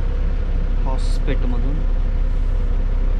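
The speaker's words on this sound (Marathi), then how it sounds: "तर आता आपली गाडी निघते" A steady low engine drone comes from an MSRTC seater-cum-sleeper bus as it pulls away, running continuously beneath a person speaking close by.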